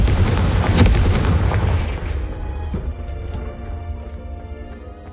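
A Confringo explosion spell cast in Hogwarts Legacy lands as a loud, booming blast with a deep rumbling tail that slowly fades over several seconds, alone with no voices.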